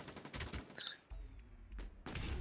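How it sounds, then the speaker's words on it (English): A sniper rifle shot in a competitive video game match, heard as a sharp crack within a busy stretch of game audio, with more bursts of weapon fire and low rumbling around it. "Karambo's pulling out the sniper with his 2 here."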